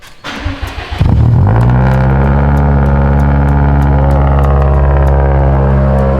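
A Mitsubishi Lancer Evolution VIII engine cranks and starts with a sudden roar, then settles into a loud, steady rumble close by as the car pulls away.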